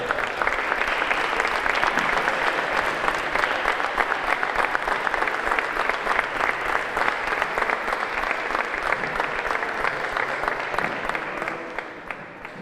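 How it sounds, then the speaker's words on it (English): Sustained applause from a crowd at a wallball (Irish handball) national finals, honouring the Ladies Open runner-up; steady dense clapping for about twelve seconds, fairly close and loud, tapering slightly at the very end with no talk over it. "Can we give a big round of applause for today's runner-up in the Ladies Open, Sienna McCurran from Galway."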